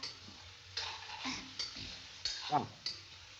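Food being stirred and fried in a home kitchen pan: scraping spoon strokes against the metal with a soft sizzle underneath, in several separate bursts, close by and moderately quiet.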